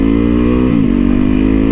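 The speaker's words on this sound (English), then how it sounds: "Calm that engine down." A motorcycle engine idling loud and close: a steady droning hum that dips briefly at a gear shift, then settles back into an even, calm drone.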